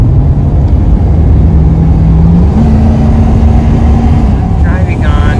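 A car cruising along Highway 89 near Kanab in southern Utah, its engine a loud, steady drone with a sustained tonal hum, continuous throughout with only slight shifts in pitch.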